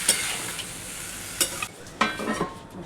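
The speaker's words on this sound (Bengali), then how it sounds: "এরপর ভালো করে নাড়াচাড়া করে ঢাকা দিয়ে দেবো।" A ladle stirs salted vegetables in a pan, with spoon scrapes at uneven moments over a soft sizzle.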